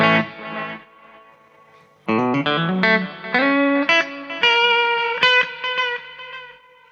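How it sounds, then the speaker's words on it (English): A distorted electric guitar plays a melodic phrase through a Fender Mirror Image Delay on its tape setting, notes repeating as wavering, pitch-bending echoes with wow and flutter, giving the delay tail a warbly, slightly unsteady character. "variation 1, tape, that's going to have a bit more wow and flutter in the repeats"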